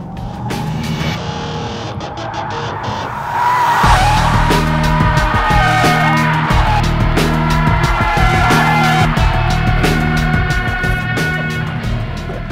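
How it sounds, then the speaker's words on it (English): A 2013 Chrysler 300 SRT accelerates hard, the engine note climbing in repeated rising sweeps through the gears as a loud, close, sustained roar with brief dips at each shift, over faint music. "when you push the gas, you find out pretty quick"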